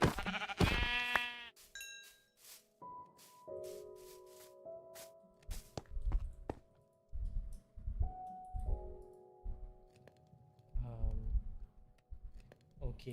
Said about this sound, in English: Brown sheep.